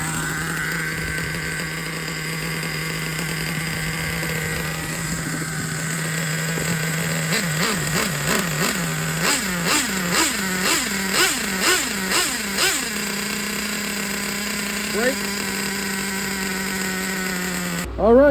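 A Traxxas Revo nitro RC truck with a big block engine idles with a steady high buzz, then blips the throttle in a rhythmic series of rising revs before settling back, loud and close.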